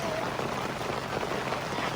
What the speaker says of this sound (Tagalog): Wala na, umulan na ulit.